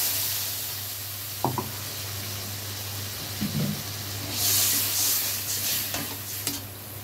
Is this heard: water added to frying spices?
yes